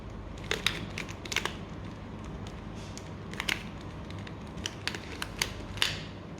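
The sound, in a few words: scrambling a 2x2 mirror puzzle cube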